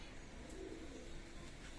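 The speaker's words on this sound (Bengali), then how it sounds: "ওমান ব্লাড লাইনের টেডি কবুতর।" Oman bloodline teddy pigeons coo faintly and low, a soft murmur barely rising above steady background noise.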